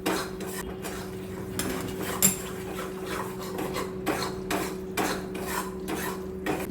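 Flour roasting in ghee over a very low flame for Gujarati sheera is stirred constantly, giving repeated close metallic scrapes and rubs of a utensil against the pan over a low steady hum.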